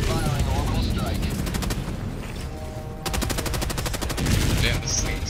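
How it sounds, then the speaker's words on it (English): Orbital strike fired in the Helldivers 2 video game, heard as loud, rapid bursts of gunfire and booming impacts that keep hammering through the whole stretch, with a brief lull near the middle before the barrage resumes. "Firing orbital strike."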